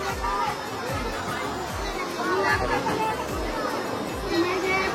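Crowded chatter at the Panvel fish market: a continuous babble of many voices, close and distant, with individual people talking over a steady market hubbub.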